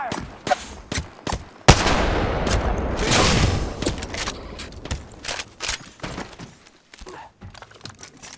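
Gunfire in the video game Apex Legends: a rapid volley of loud shots with sharp, close reports, a denser burst of fire around the middle, then scattered single shots and clatter tapering off.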